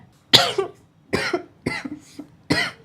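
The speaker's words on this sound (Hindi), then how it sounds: "खांसी हो रही" Four harsh, separate coughs spaced about a second apart, close and loud, with short silences between them.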